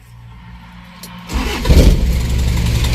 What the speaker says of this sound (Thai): ฟังเสียงเครื่องยนต์กันหน่อยนะครับว่า เป็นยังไงนะครับสตาร์ติดง่ายไหม